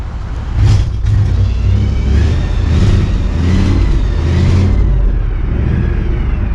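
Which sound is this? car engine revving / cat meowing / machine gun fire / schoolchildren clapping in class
car engine revving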